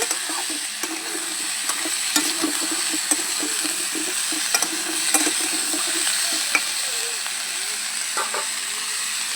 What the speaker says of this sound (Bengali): অল্প একটু লবণ দিয়ে সবজিটাকে ভালো করে কষিয়ে নেব